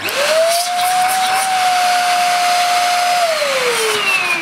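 A Goblin Stick hand-held vacuum cleaner runs up to speed with a rising whine, holds a loud steady motor tone with airy suction rush, then winds down, close and alone.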